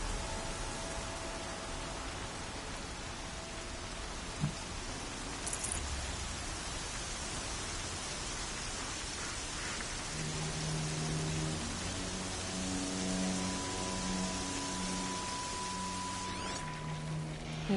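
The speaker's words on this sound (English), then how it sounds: "Air's heavy with rain." Steady light rain falling outdoors near a stream, a soft continuous hiss of drops throughout with faint tonal hums and chirps emerging in the later part.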